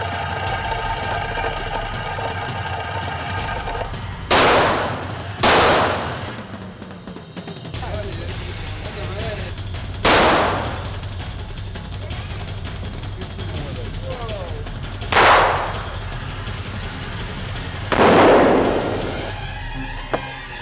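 Gunshots at the H&H Shooting Sports Complex, a shooting range at I-40 and Meridian, during a shootout competition: five loud, sharp reports spaced a few seconds apart over a steady outdoor hum.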